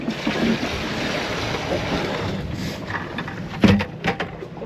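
A small boat's outboard motor idles in gear on open water, a steady low hum under wind and lapping waves, with a few brief splashes near the end.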